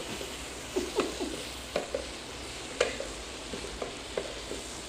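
Garlic frying with onions in a pan for chicken curry, a soft steady sizzle broken by several sharp scraping stirs at irregular intervals, fairly quiet and close with no voices.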